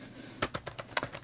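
Keys click on a Lenovo T440 laptop keyboard in a quick burst of about seven crisp, close taps after a brief quiet moment.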